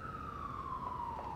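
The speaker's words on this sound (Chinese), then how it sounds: "董事长对面来了辆消防车。" A fire engine siren wails as a single steady tone that slowly falls in pitch, moderately loud and continuous over a low rumble of traffic, with no one talking.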